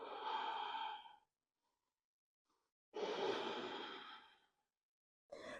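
Deep, slow breaths during a yoga flow, two long audible exhalations separated by silence, close and clear, with the start of a third at the end.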